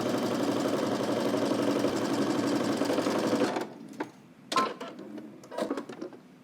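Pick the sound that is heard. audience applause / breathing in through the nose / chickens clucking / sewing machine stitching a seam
sewing machine stitching a seam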